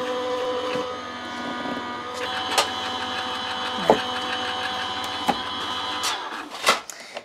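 An electric die-cutting machine feeds Tonic metal dies through with a steady loud mechanical whir and motor drone, broken by a few sharp clicks and thumps near the end; no voices.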